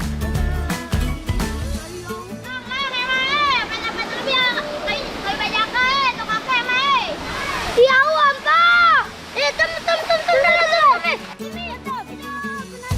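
A waterfall on a children's outdoor adventure trip in Indonesia pours in a steady loud rush throughout, with splashing and children's voices and calls over the water.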